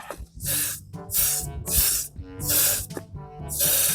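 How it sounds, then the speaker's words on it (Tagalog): Close bursts of a hand pump sprayer misting garden plants near a green bell pepper, five hissing sprays in a steady rhythm with brief pumping pauses between them. "At mag-spray tayo dito."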